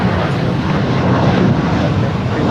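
An airplane at Los Angeles International Airport, a loud, steady broadband engine roar close by that holds even throughout, with no voices.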